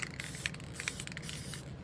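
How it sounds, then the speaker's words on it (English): Aerosol can spraying Sun Yellow paint in a light dusting coat over small plastic toy-brick parts, heard as a steady close hiss with a few brief louder bursts and no talking. "It's spraying pretty good, and we're just gonna dust it with a very light coat."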